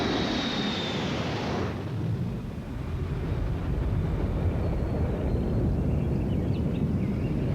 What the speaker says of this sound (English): Today, Walden Pond lies beneath the flight patterns of a nearby airport.